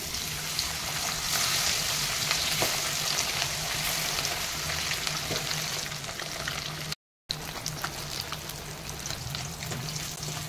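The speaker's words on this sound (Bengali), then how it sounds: "এই আমার তেল গরম হয়ে গেছে, এই আমার কাতলা মাছগুলো ছেড়ে দেবো।" Katla fish pieces dropped into hot oil sizzle and crackle steadily and close up, with a brief total dropout partway through before the frying hiss resumes.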